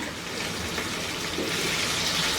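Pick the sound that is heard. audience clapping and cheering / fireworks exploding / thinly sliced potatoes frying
thinly sliced potatoes frying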